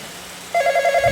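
A telephone in a horror video game starts ringing abruptly partway through, a loud, close electronic trill that warbles steadily with no talk over it.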